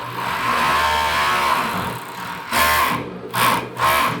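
An industrial overlock sewing machine runs in a steady loud whir while stitching, with a brief pause before it restarts in a few short bursts.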